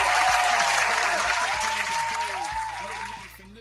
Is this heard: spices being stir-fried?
no